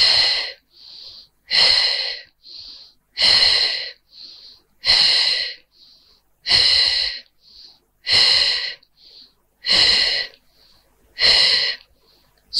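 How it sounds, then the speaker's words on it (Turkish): Heavy rhythmic breathing during a Pilates exercise, eight loud, evenly spaced breaths with strong hissing exhales, each followed by a quieter short inhale, close and alone. "Nefes aldım."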